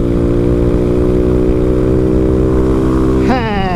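A Honda Fan 160 motorcycle fitted with a Dore exhaust runs close by with a steady buzzing drone, then revs up sharply near the end, the pitch climbing quickly.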